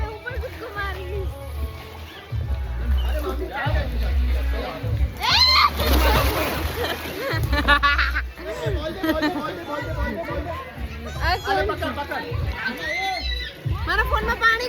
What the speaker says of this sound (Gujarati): હવે હું પણ કૂદકો મારીશ